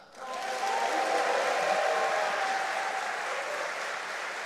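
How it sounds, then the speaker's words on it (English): A large audience claps steadily and warmly at a student welcome event in Madrid, a dense, even wash of applause that swells quickly and holds at full strength throughout. "let's give applause for Elisa."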